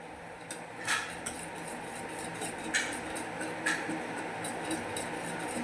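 Utensil stirring black urad dal porridge in a pot, sparse light scraping and clinks of a spoon against the pot at irregular intervals, fairly quiet and alone.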